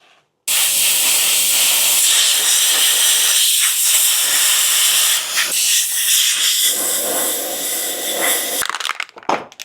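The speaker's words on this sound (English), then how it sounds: "I always like to cool my welds off with a little bit of paint." Spray paint hisses loudly and continuously onto hot metal welds on a cart frame, a steady close spray lasting several seconds before cutting off into a few brief rattles.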